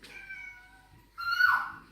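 A pet cat meows twice indoors, a thin drawn-out first call followed after a pause by a louder, sharper second meow, close and clear with no talk over it.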